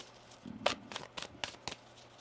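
Tarot cards being shuffled by hand, a quick series of soft riffling bursts and papery flicks, quiet and close, with no talking.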